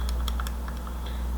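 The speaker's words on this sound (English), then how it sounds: "I'm going to have to do some typing here." Computer keyboard typing, a run of irregular light clicks and taps close by with a steady low hum underneath, no voices.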